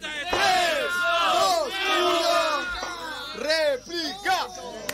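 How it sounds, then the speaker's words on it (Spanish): A crowd at a freestyle rap battle cheers loudly, a massed roar of shouting voices in rising and falling waves, with scattered claps and sharp yells breaking through. "¡Aplausos, gente! ¡Ruido, quilombo!"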